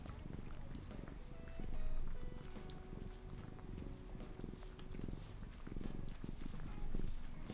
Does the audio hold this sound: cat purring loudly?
yes